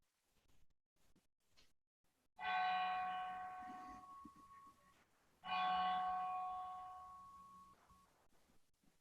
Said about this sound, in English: I love that bell in the background, Annalisa.